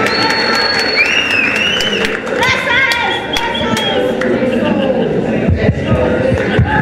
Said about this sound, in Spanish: vamos a darle un fuerte aplauso a Paulina Castro